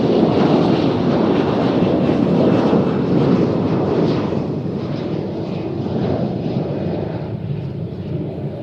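A jet airplane taking off at Cincinnati International Airport, a loud continuous engine roar with broad rumble and wind buffeting that slowly eases as the aircraft climbs away.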